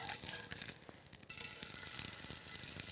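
Fish searing in a hot pan after being flipped, a soft steady sizzle with small crackles and pops, faint and close, with no voices.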